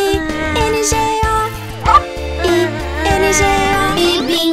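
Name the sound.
dog barking in a children's song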